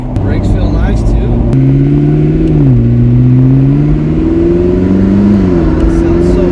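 McLaren fitted with a swapped used engine bought on eBay, idling and revving loudly at close range with steady rising and falling engine tones; people talk over it.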